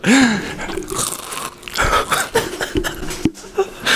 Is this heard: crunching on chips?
yes